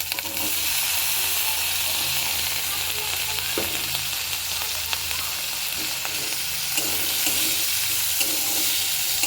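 Ginger, garlic and chopped tomato fry in a pan for a brinjal and potato chokha, giving a loud, constant hiss of sizzling with occasional stirring scrapes close by, no voices.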